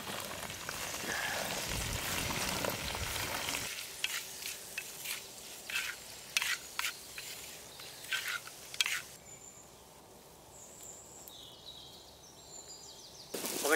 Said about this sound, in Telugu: నిలువుగా చీల్చుకున్న 8 పచ్చిమిరపకాయలు, అట్లాగే 2 కరివేపాకు రెమ్మలు, 2 ఇప్పుడు ముందుగా కోసి పెట్టుకున్న ఉల్లిగడ్డలు వేసుకుందామండి.